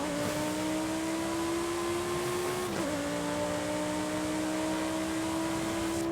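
A Lamborghini Huracan EVO engine in Forza Horizon 5 holds a steady, loud drone with a sustained whining tone, pitch dipping slightly partway through as if shifting gear, with no one talking.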